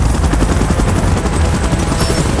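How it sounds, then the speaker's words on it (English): Helicopter in the video game PUBG, Titans: The Last Stand mode, a loud, close, continuous rotor roar with rapid chopping pulses throughout and no talk. "Chopper in position."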